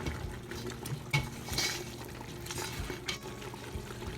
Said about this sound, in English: I'll just give it a quick stir.